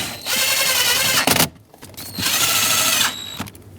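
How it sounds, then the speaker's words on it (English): Two short bursts of a power tool driving 7mm hex-head screws snug during a brake light switch replacement on a 2010-2017 Chevrolet Equinox, a whirring buzz with a brief stop between runs, close and loud. "Lastly, the 3 7mm headed screws. Just snug them up."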